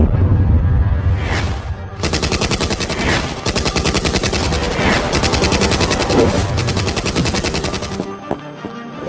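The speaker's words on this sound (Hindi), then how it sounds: "फातिमा, फायर! फातिमा उस आदमी के पैर को टारगेट करती है" Loud, sustained automatic gunfire sound effect in an animated Hindi detective story, a rapid machine-gun burst running for several seconds after a brief lead-in, then stopping abruptly, with no speech over it.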